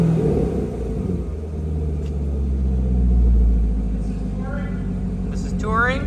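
A Chevrolet Corvette C7 idles with its exhaust in stealth mode, giving a low, steady, subdued rumble up close that swells slightly midway, with someone talking over it near the end.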